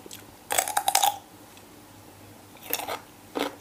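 Crisp crunching bites of food, likely grilled pork tongue with fresh vegetables, in a burst of rapid crunches followed by two shorter chewing bursts, close and fairly quiet.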